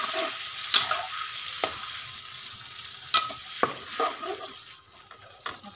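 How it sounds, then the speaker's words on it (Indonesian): Blended spice paste hits hot oil in a pan for a Minang-style coconut milk tuna dish, giving a steady crackling sizzle with sharper pops and spatters scattered throughout and the clatter of stirring. "Kita tumis bahan yang kita blender tadi."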